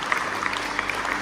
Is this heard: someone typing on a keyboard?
no